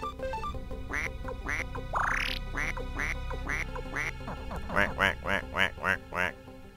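A cartoonish duck in the video game Suikoden II quacks repeatedly, loud and close, in a fast string of calls with one long rising squawk, then a regular run of quacks over game music and a voice talking.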